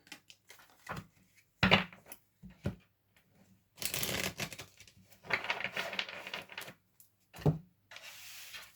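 Tarot cards are shuffled in short bursts: soft riffles and flutters separated by brief pauses and light taps, close and fairly quiet.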